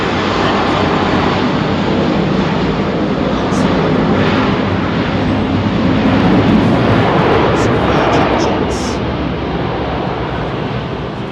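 A loud airplane roars at London Heathrow Airport beside runway 27R, a dense, steady engine rumble and whoosh that fills the whole stretch, heard close up.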